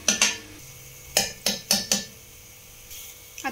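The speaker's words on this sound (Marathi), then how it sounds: "आता हे सगळं चांगलं मिक्स करून घ्यायचं आहे" A spoon clinks against a metal pot while chili powder and sambar masala are stirred in for sambar, several sharp scraping knocks in quick bursts with pauses between.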